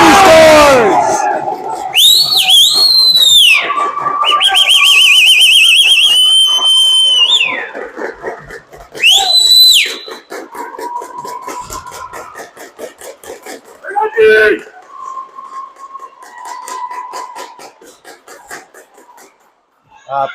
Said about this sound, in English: her dad whistles loudly beside me